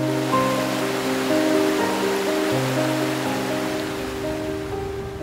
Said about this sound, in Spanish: La sumatoria de estas aguas se encausa y va formando lo que es el río Machángara.